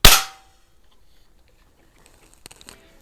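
A .177 pellet gun fires a used primer, one sharp loud crack up front that fades quickly, followed by faint small metallic patters and ticks about two seconds later.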